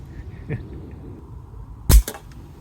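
An air rifle fires pellets at a target, one crisp, loud report with a quick follow-up impact, preceded by a faint soft tap, over quiet background.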